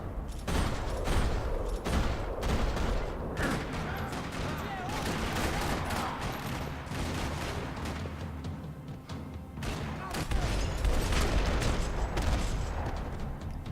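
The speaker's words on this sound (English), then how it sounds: "Another parking lot rattling with gunfire." Dense, rattling gunfire from Max Payne 3 in a parking lot shootout: rapid overlapping shots and bursts fill the whole stretch, loud and close, with occasional heavier booms and brief game voices mixed in.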